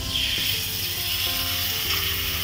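Chicken sizzles steadily on a hot grill at medium to high heat as it is turned, a close, continuous hiss with a few faint clicks of handling.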